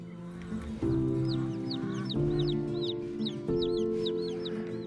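Several chickens cluck and squawk in quick, overlapping bursts on Zaytuna Farm, against a steady low hum, fairly close and continuous.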